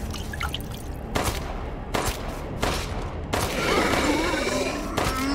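Panicked gunfire in Resident Evil Village, four or five sharp shots spaced about a second apart over game ambience, with a voice heard.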